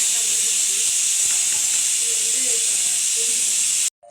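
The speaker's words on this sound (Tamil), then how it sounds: "நல்லா கொதி வந்துச்சு பாருங்கள், நல்லா திக்காகிடுச்சு" Thick potato kurma simmers in a pot with a steady, close hiss of steam and bubbling that runs throughout before cutting off at the end.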